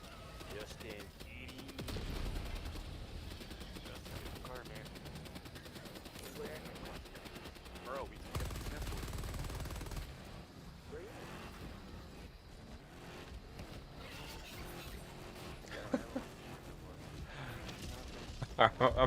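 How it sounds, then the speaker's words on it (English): A machine gun sentry in a video game fires bursts of gunfire amid vehicle engine noise and other game sounds, with a player talking over the action. "Watch it, we're in line of the machine gun sentry."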